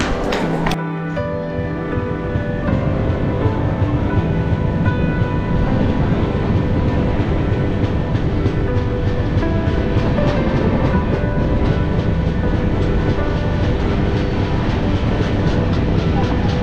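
The Tamralipta Express, a 12857 train heard from inside a 2S coach, rumbles steadily along the rails with a loud, continuous clatter of wheels and carriage noise. A short sharp knock comes near the start.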